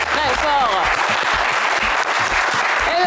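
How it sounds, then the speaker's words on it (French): On the set of the French game show Le Coffre Magic, the studio audience gives loud, continuous applause for a contestant while a host's voice carries over the clapping. "Allez, on vous applaudit très"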